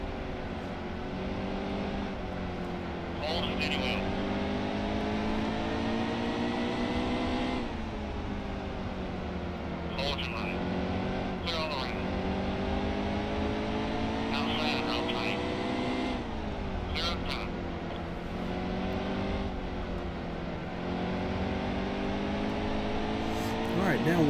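Stock cars racing at Bristol in NASCAR Heat 2 give a loud, continuous engine roar with layered harmonic whine that rises and falls as the cars shift gears.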